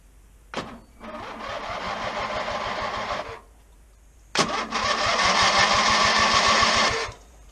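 A homestead-built tractor engine with a newly fitted carburetor cranks twice. Each attempt starts with a sharp click, then a rhythmic chugging crank that rises in loudness. The second attempt is longer and stronger, and both stop abruptly.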